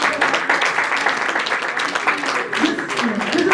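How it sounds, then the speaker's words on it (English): At a women's leadership conference, an audience claps steadily at close range, a dense continuous applause with voices mixed in throughout. "Please keep clapping at Inspire to Inspire conference."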